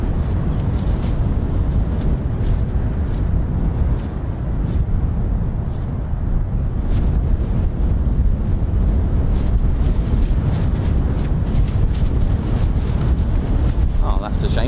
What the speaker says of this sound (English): so listen to that wind though